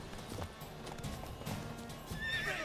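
Roach the horse in The Witcher 3: Wild Hunt whinnies loudly near the end, with a steady clip-clop of hooves throughout and faint game background sounds.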